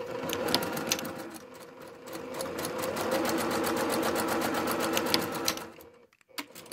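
A sewing machine stitches a flat felled seam on linen-style 18th-century undergarment panels, a fast steady mechanical whirr with rapid needle ticking that pauses briefly, then stops near the end.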